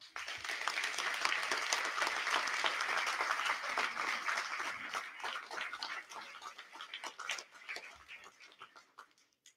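A hall crowd at the Saumur mayor's 2020 New Year wishes ceremony gives sustained, fairly quiet applause that slowly tapers off toward the end.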